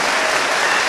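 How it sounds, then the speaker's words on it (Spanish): Loud, dense applause from a Catholic gathering led by a priest, a brief burst of close, full clapping with no voices above it. "A fuerte aplauso para este hermano."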